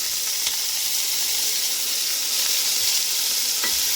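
Bitter gourd frying in hot oil in a home kitchen, a steady loud sizzle and hiss that holds throughout, with a few faint clinks of stirring.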